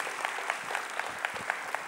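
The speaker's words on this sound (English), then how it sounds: "I think you all deserve a big round of applause for what you have done" Brisk, full applause from a symposium audience, with a steady mass of clapping marked by regular, rhythmic accents as many hands strike in near unison.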